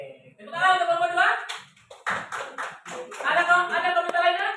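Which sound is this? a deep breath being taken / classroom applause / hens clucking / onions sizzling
classroom applause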